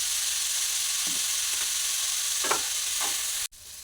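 Vegetables fry in a pan with salt and turmeric, giving a constant close hiss of sizzling oil with a few soft stirring scrapes, and a sharp click near the end.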